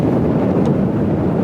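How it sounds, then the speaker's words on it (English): Steady wind buffeting the microphone on an open marsh at Lake Shetek State Park, a loud continuous low rumble with no other sounds. "boy, it's windy."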